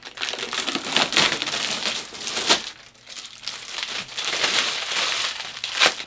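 Protective plastic packaging peeled off a Samsung Odyssey Ark 55-inch curved gaming monitor, a close run of crinkling and crackling film with tearing bursts, easing briefly midway before resuming, no talk.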